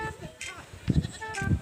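Goats bleat on a goat farm, with several short, wavering calls close by, and a person talks quietly among them.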